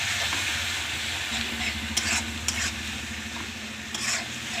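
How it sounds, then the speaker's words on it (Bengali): Beef liver is stirred in a frying pan with spices and salt, giving a steady close sizzle broken by a few scraping clicks of a spoon against the pan, with no voices. "দিয়ে এটাকে ভালো করে নেড়ে চেড়ে নিলাম।"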